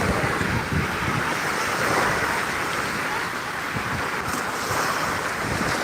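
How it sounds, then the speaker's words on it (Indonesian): Ocean surf and gusting wind at Padongko beach in Barru make a continuous broadband wash, with wind buffeting the microphone throughout and no voices. "Ini salah satu spot pantai yang ada di Kabupaten Baru"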